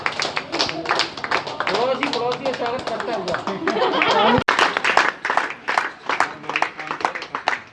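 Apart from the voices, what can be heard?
loud clapping for the nurses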